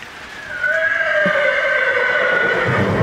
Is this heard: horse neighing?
yes